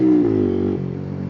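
A 125cc sportbike engine that has just jumped out of gear, heard up close as a steady tonal drone that drops abruptly in pitch partway through and settles lower.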